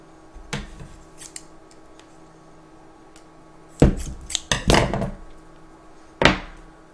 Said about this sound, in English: So just get some tape here and we'll do that.